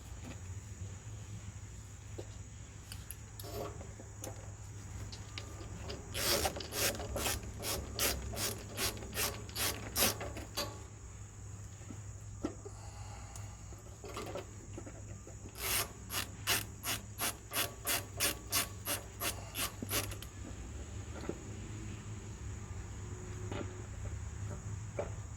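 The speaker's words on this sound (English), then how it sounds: "So we're gonna start by taking off the airbox lid here." A ratchet clicks off the airbox lid of a Troy-Bilt XP 7500 watt generator with a Briggs and Stratton engine: two close bursts of rapid, even clicking several seconds apart over quiet background, with no talk.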